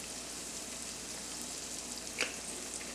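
Sesame seeds and onions frying in a pan with oregano, a steady close sizzle with a brief scrape of stirring partway through.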